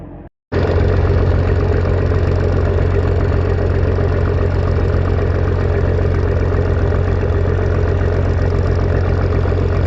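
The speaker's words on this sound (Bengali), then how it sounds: "শুভরাজ ৯ লঞ্চের ইঞ্জিনের সাইলেন্সার পাইপ" The diesel engine of the Shuvoraj 9 passenger launch, recorded at its silencer pipe, drones in a loud, steady low throb with a constant knocking rhythm, continuous and close after a brief quiet start.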